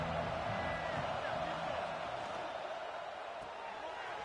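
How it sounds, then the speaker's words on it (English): Dense, steady roar of a large American football stadium crowd, distant and even throughout, with no clear cheers standing out. "This crowd bringing the energy and noise early"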